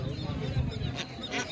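Geese honk in short bursts at the Tebaria livestock market in Natore, mixed into busy crowd noise while people talk close by.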